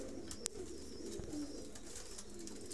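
Faint, low pigeon coos under a constant humming background, with a sharp click partway through.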